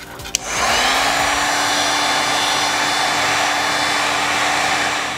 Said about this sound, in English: now we're going to heat gun this so we can get our heat shrink tubing to shrink and really seal it in there